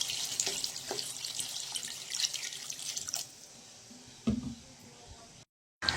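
Water poured into a pan of katla fish curry, a faint splashing, trickling pour with a few drips and clinks that ends abruptly near the close.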